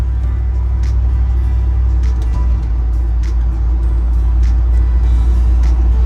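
A 1967 Ford F100 pickup truck, fitted with new brakes and tires, drives along with a steady loud low engine and road rumble close by.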